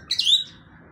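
Birds chirp in an aviary in a quick burst of two or three high, bright tweets early on, close and clear, then fade to a quiet hum.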